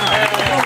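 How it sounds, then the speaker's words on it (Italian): Audience applause at a sports festival, a dense, loud wash of clapping crowd noise filling the whole short moment without clear gaps. "si meriti un grandissimo applauso"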